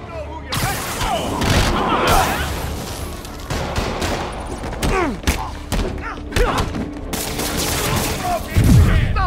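Heavy gunfire in Marvel's Spider-Man Remastered on PC: rapid volleys of shots and thudding impacts crash one after another at close range, loud and dense, with voices talking over the barrage.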